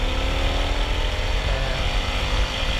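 An Indian FTR S 1200 motorcycle engine drones continuously while riding, a loud, close, rough buzz with steady wind and road noise and no talk.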